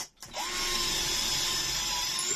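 A Hychika 18V cordless drill driver spins up and bores steadily into a tray, a loud, continuous whine that holds level from start to finish with no talking.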